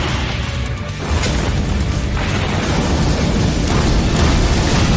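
An animated planet-destroying blast as Saitama drives his hand into the ground in a One Punch Man fan animation: a loud, continuous rumbling roar that swells after the first second and keeps churning without pause.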